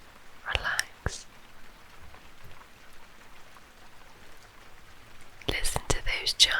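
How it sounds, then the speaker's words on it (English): Soft raindrops patter faintly in an outdoor nature setting beneath close, whispered talk, with a few brief louder bursts near the start and end. "Allow those raindrops"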